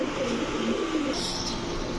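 Saharanpuri cross pigeon cooing softly, low warbling coos half buried in a steady broadband background hiss, close but faint.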